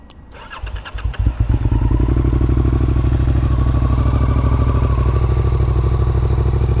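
A warmed-up motorcycle cranks with a few quick clattering turns, catches, and settles into a loud, steady idle that thumps evenly for several seconds, close to the listener with no talking.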